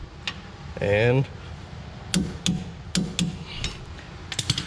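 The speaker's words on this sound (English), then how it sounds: "Put your torque wrench through" Torque wrench clicking on rear-end bolts during a 1968 Charger 8 3/4 rear end reassembly, several sharp close metallic clicks spaced apart, with a brief spoken word early on.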